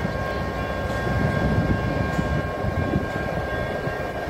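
A Caltrain train at Sequoia Station, heard close as a steady heavy rumble with a rhythmic rolling clatter and a faint high tonal whine, holding fairly loud throughout with no talking.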